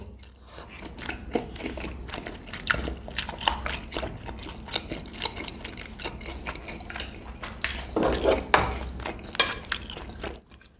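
Close, wet chewing of Korean topokki rice cakes in thick sauce during a street-food mukbang, with soft bites and utensil clinks spread over the whole stretch and no talk.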